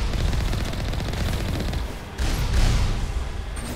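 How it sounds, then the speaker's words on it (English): Heavy automatic gunfire in Mass Effect, a loud continuous rattle of rapid shots that dips for a moment and then surges back with a deeper blast, with no talk over it. "Oh, she's shooting me?"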